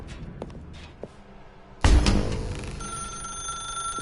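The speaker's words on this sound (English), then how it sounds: "Now pick up the phone" A telephone in the video game The Stanley Parable begins ringing suddenly and loudly after a few soft footsteps and thumps, its bell continuing steadily to the end.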